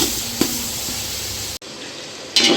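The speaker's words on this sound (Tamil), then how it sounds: "தக்காளி கொஞ்சம் வதங்கணும்" Tomatoes sauté in a pan for mutton biryani with a steady, fairly loud hiss, a couple of short clicks, and a sudden break before the sizzle resumes and briefly flares.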